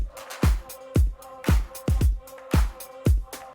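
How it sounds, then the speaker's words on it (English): Looped drum pattern from a song's hook: punchy kicks, sharp claps and hi-hats repeating in a steady groove, close and loud, with no voices. "So all of the drums together in the hook sound like this."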